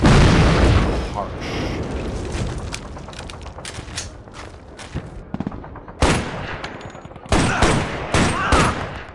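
Gunfire from the video game Shadow Ops: Red Mercury, bursts of shots and booms through a busy battle mix, with louder clusters of sharp cracks toward the end and talk running underneath.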